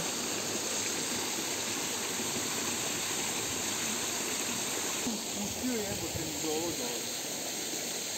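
A waterfall rushes as a steady, broad hiss that fills the whole scene at constant loudness, with faint voices and small movements mixed in during the second half.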